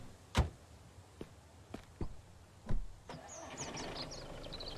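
A car engine in the survival game Mist Survival tries to start: a few sharp clicks and thumps, then a low idling rumble settles in, fairly quiet and heard without any talk.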